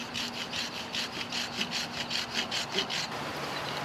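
Aluminum foil scrubs rust off metal in quick, rhythmic back-and-forth strokes, a close, gritty rasping that repeats about a dozen times before stopping.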